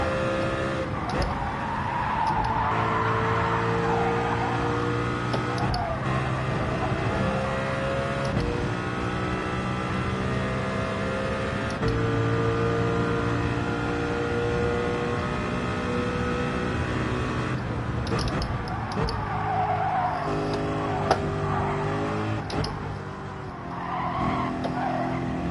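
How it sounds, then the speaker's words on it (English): Tires squealing and skidding among race cars in Gran Turismo 7, a long tonal screech wavering over steady engine drone for the whole stretch, with someone talking over it. "I hear skidding going on behind me."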